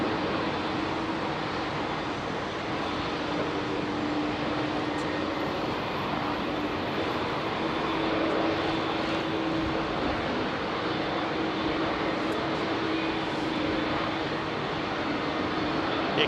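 JetBlue Airbus A321 at London Heathrow runway 27R, a steady broadband jet engine rumble holding level and fairly close for the whole stretch, with no voices over it.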